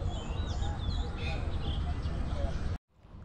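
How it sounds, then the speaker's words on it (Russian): Several birds chirp and sing in the morning around a hotel in Thailand. Their short, bright calls rise over steady background hiss, and the sound cuts off abruptly near the end. "И птички, конечно, с утра поют."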